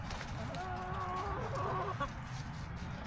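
Backyard chickens cluck and squabble as they are fed leftover worms as a fall and winter snack, with several hens calling close by over a low background rumble.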